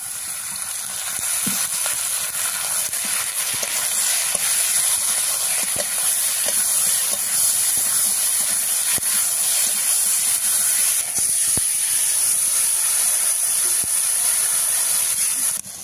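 Oil poured into a hot pan of spice paste for a Bengali soybean and taro curry sizzles loudly and continuously up close, a dense, even frying hiss with faint scattered clicks of stirring and no talk.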